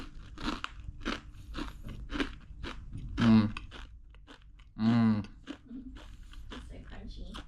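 Someone bites and chews a crunchy savory Diwali snack in Mumbai, making repeated close, sharp crunches throughout, with brief voiced murmurs of enjoyment between bites.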